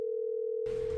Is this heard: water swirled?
no